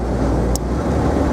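A 1980 MG B rolls along in fourth gear with overdrive engaged, a steady, loud broadband drone of engine and road noise that fills the clip, with one short hiss partway through and no talk.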